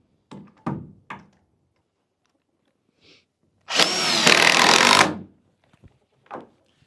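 Power drill driving screws into the corners of a wooden board: a few short thunks and taps, then one loud, close whirring burst lasting over a second, followed by scattered soft knocks.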